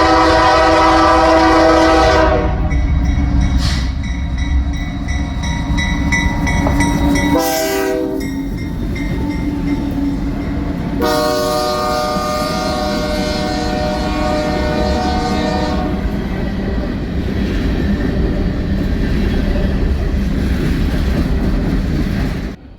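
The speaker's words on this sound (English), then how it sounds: "I went to Buckby to catch a set of grain empties led by a BNSF and Canadian National" Freight train of empty grain cars led by BNSF and Canadian National GE locomotives, with loud horn blasts over a heavy close rumble and rolling wheel noise.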